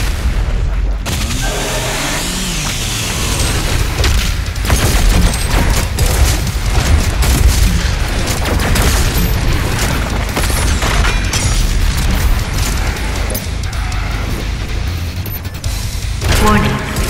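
A BFG 10,000 fires in DOOM Eternal amid a loud, dense battle soundscape, with continuous heavy booms and crashing impacts that fill the whole stretch at high level.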